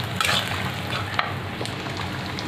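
Bitter gourd frying in a pan on a gas stove, a continuous close sizzle with a few faint stirring scrapes and clicks; no voices.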